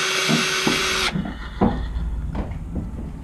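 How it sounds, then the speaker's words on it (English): Drill reaming out holes in a plastic Traxxas UDR rear torsion bar mount: a loud high drill whine for about a second that stops abruptly, then soft handling clicks and knocks of the part nearby. "let's drill holes."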